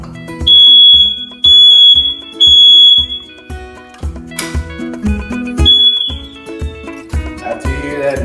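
Smoke detector test alarm shrieking in three loud, steady beeps and then a fourth while the test button is held, with clicks and handling noise in between and no speech.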